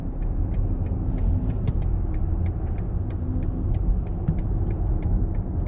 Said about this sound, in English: So now I'm merging onto the highway.